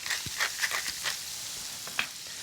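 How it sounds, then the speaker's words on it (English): Steady crackling sizzle of pumpkin with black pepper and sage frying in a hot pan, with a few brief clinks and stirring sounds on top. "you should hear that sizzle as soon as the pumpkin goes in"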